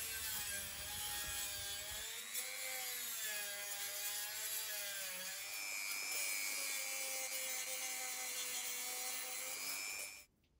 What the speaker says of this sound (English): To finish off, I use my Dremel with a sanding disc